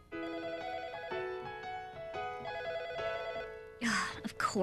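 A telephone rings with a repeating electronic melody, close and clear, then a short burst of voices cuts in at the end.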